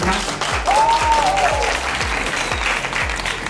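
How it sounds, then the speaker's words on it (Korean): Applause from the audience at a dental seminar on clear-aligner orthodontics as a speaker is introduced, a full, even burst of clapping held at steady volume throughout with faint voices underneath. "박수 한번 부탁드릴게요"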